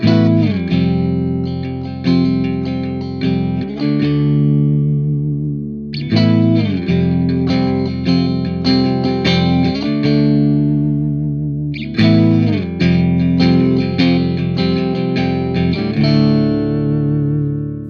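Electric guitar played through a Marshall Studio 900 20-watt amp on its clean channel with the reverb off and EQ at noon, strummed chords ringing out in three repeating phrases of about six seconds each, loud and close with no talking.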